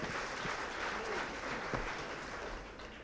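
Audience applause for a film team at an event, a faint, continuous wash of clapping heard from a distance with a murmuring crowd, and no single claps standing out.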